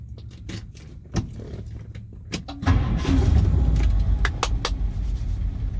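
A 1959 Ford Ranchero engine cranks after a few clicks and rattles, then catches and settles into a loud, steady idle close by.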